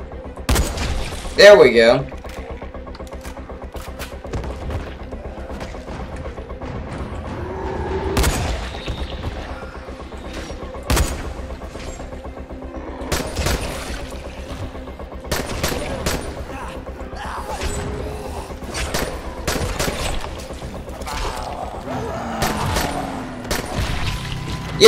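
Gunfire in the video game Dying Light, sharp scattered shots and bursts spread through the stretch, mostly moderate in level, with someone briefly talking over it near the start.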